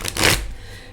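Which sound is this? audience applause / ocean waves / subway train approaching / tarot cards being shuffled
tarot cards being shuffled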